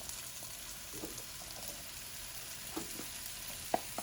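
Colorful peppers and onions sizzle gently in a hot pan as they are stirred, a faint steady frying hiss broken by a few soft scrapes and clicks near the end.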